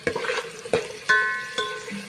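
Onions and green chillies sautéing in oil in a pan for chicken curry, with a soft background sizzle broken by a few sharp stirring scrapes and clinks.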